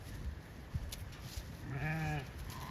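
A ewe bleats once, a clear wavering call midway, among ewes and lambs in a windy spring lambing pasture, with steady wind noise throughout.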